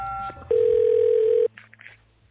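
A phone call being placed: a couple of short dialing tones, then a single steady ring tone held for about a second, followed by faint line noise and quiet clicks.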